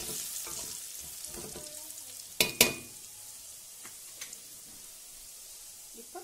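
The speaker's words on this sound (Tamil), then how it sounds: "கொஞ்சம் அரைமிளகாய் தூள் உங்களுக்கு தேவையான அளவு போட்டுக்கோங்க. நல்லா வறுத்துக்கோங்க." Browned onions with chili powder frying in a pan for egg dum biryani, giving a low sizzle with soft stirring scrapes and two sharp utensil clanks midway.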